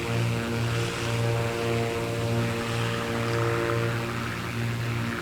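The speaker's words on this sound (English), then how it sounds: "the exterior sound of the engines is one of my least favorite parts about the plane" Twin propeller engines of a Black Square Baron drone steadily from outside the aircraft in a flight simulator, a loud constant hum with a throbbing beat and no voices.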